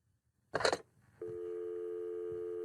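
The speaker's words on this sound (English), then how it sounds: "That sound is a dial tone." A brief rustling clatter, then a steady, continuous telephone dial tone hums on at moderate loudness.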